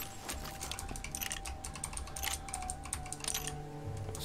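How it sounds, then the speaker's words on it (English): Loud, rapid clicking from a keyboard and mouse sitting very close to the mic, a dense steady patter of keystrokes and clicks with no talk. "I do apologise about the loud clicking. My mic's so close to the keyboard and mouse"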